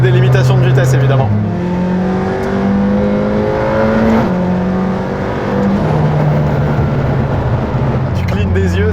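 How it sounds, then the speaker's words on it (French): A McLaren Senna's 800 hp engine revs and accelerates loudly, its pitch climbing through several gear changes, with a roaring, close-up exhaust note throughout. "on a un petit peu de place pour que le moteur puisse s'exprimer"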